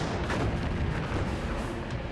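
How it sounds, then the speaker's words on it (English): Destroyer Laffey's 5-inch naval guns fire at an approaching Val dive bomber, heavy booming blasts merging into a dense, continuous rumble of gunfire that stays loud throughout. "Laffey's 5-inch guns quickly open fire."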